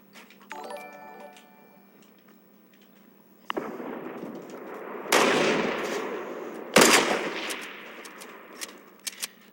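Gunfire in Fortnite crackles in several sharp bursts, each followed by a short rattling decay. Faint electronic game tones sound first, and no one talks.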